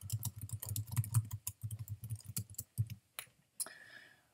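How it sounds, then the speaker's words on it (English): Steady typing on a computer keyboard as notes are entered, quick clicking keystrokes close by and fairly quiet, with a low hum underneath and no speech. "So I'm going to type that in our notes under similarities."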